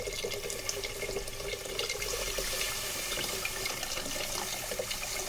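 Steady, fairly loud rush of water pouring into a pot of nombu kanji rice porridge, continuous and unbroken for several seconds, with no talking.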